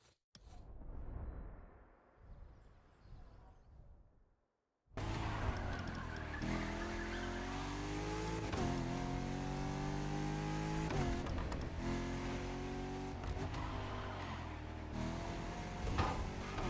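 A Corvette C8 Stingray in The Crew Motorfest: after a quieter opening, a loud sustained engine roar with shifting pitch and repeated tire squeals and skids, running continuously and close.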